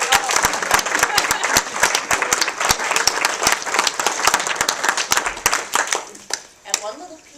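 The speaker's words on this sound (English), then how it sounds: "join me in one more round of applause for our leader" Sharp, distinct handclaps ring out from an audience at a charity appeal news conference, a lively round of applause with some cheering that thins out near the end as a voice comes in.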